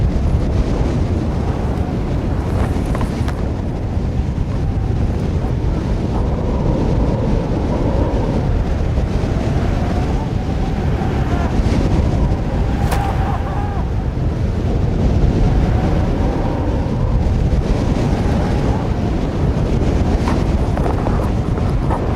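Strong wind buffets an exposed corner high on a mountain, a steady loud roar of gusts against the microphone that holds for the whole stretch with no speech.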